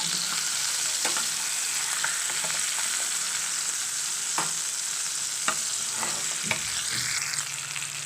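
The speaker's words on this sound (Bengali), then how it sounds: "মাছগুলোকে আমি ভেজে নেব।" Prawns fry in mustard oil in a kadai, a constant loud sizzle and crackle up close with occasional soft clicks of a spatula, no voices.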